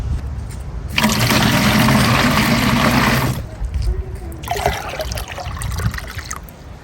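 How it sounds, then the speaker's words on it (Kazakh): Water pours steadily into a 10-litre watering can on top of a prepared fertiliser infusion for fruit trees, a loud continuous splash for a few seconds, then quieter intermittent trickling. "осы тұнбаның үстіне 10 литрлік лейкамызды толықтырып су құямыз"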